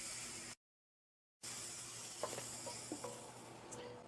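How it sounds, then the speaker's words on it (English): Beef broth poured into flour browning in a pan gives a steady close sizzling hiss with a few soft clinks and stirring scrapes, after a brief silent gap. "Now I'm adding 2 cups of beef broth."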